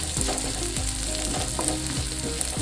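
Shallots and curry leaves fry in hot oil in a pan with a steady, close sizzle, and a spoon scrapes through them in repeated strokes.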